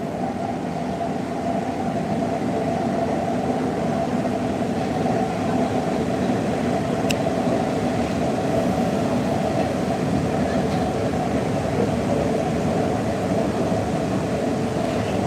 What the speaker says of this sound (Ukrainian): Тому показываю стрим вам з Варшавского метро.